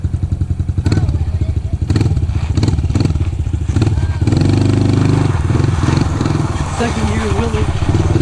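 A pit bike engine runs and revs unevenly, its throttle blips rising and falling over a steady low rumble, with clattering thumps and people talking over it.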